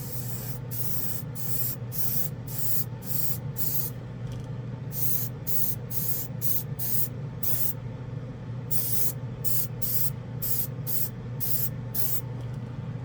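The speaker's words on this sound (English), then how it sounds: "Let's see how this sprays some all-clad." An airbrush sprays All-Clad airframe aluminum paint at low air pressure, giving repeated short bursts of hissing spray separated by brief pauses over a steady background hum.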